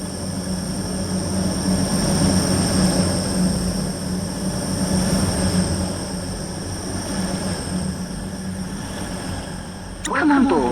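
Stepford Express train from a video game running at Benton, a steady droning rumble with a constant high whine, a brief clatter near the end, and no talking over it.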